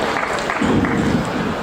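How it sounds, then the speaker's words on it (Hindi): A hall full of people at a school annual day function claps steadily, a dense even wash of applause with no pause. "एक बार और जोरदार तालियां बजाते हैं"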